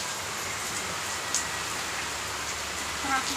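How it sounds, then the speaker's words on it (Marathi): Steady, dense hiss of heavy rain falling continuously, with no pauses or voices. "बऱ्यापैकी चांगला मोठा पाऊस चालू आहे"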